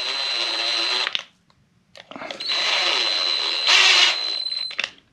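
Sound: power tool driving a fastener

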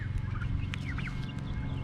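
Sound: turkeys gobbling on a small farm

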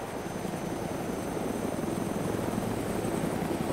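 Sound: aircraft engine starting in video game DayZ

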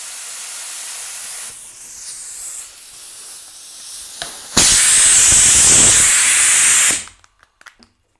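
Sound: spray gun running on compressed air

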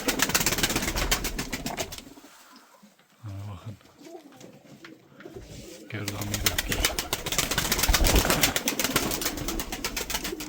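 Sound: Mardin pigeons cooing

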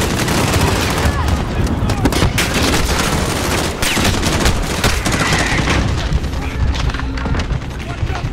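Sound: mortar fire in Call of Duty Modern Warfare video game

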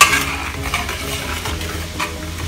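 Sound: stir-frying radish in hot oil

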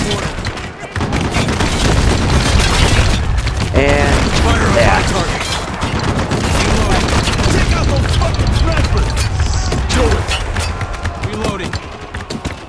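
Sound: gunfire and explosions in Spec Ops: The Line video game

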